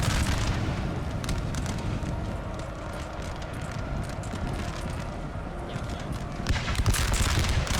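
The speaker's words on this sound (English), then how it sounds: "Oh, good volley." Musket volleys crackle continuously from a Napoleon: Total War battle, a dense rolling barrage of gunfire and distant booms under the clamour of the fight, steady and loud with no break.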